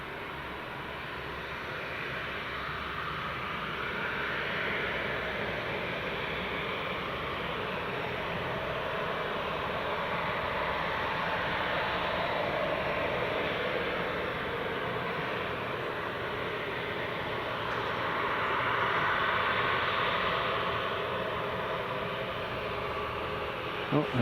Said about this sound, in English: there's the Woodgate one just departed. The King Air.